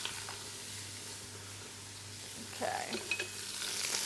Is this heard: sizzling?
yes